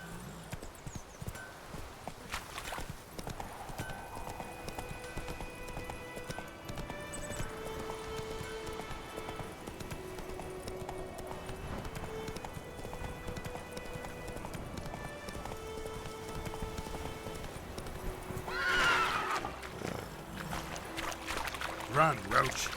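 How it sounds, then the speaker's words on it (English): In The Witcher 3 video game, hooves clatter rhythmically over steady ground while a horse gallops, with game-like music tones and occasional louder thumps; no clear speech. "I'm so glad I have a horse."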